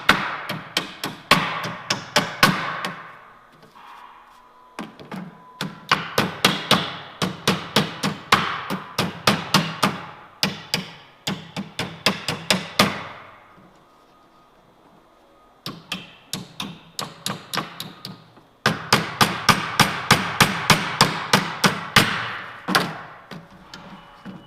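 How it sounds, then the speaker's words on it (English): Hammer pounding nails out of pallet 2x4s, sharp close blows in quick rhythmic bursts separated by short pauses, loud and steady throughout with no talk. "Gonna be a little more time to remove the nails from the 2x4s and of course pull them out of it."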